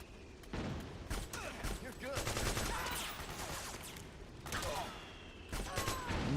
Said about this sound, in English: I have to practice my shooting here.